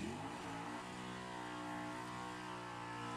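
A nostalgia drag racing car's powerful engine roars continuously at high revs as it shifts through the gears, a steady loud drone with rich harmonics and a slight pitch change early on.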